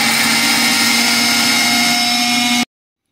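A mixer grinder whirs at full speed grinding cashews, cardamom, cinnamon and milk, a loud steady motor whine that holds for a couple of seconds and then cuts off abruptly into silence.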